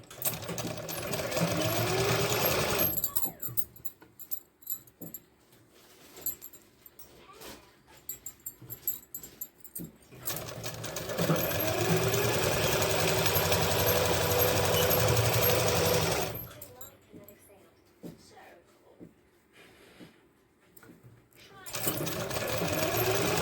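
A sewing machine runs in long, steady whirring stretches as it stitches a pintuck into a pant hem, with quieter pauses between runs; a dog whimpers and barks nearby and a person talks in between.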